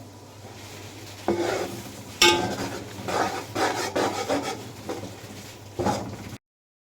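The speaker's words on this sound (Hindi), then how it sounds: "इसमें हम बेसन डालेंगे और बेसन को घी के साथ बहुत अच्छी तरह भूनना होता है" Gram flour roasting in ghee in a pan while being stirred, with repeated scraping, rubbing strokes of a spoon at uneven intervals over a faint low sizzle, ending abruptly.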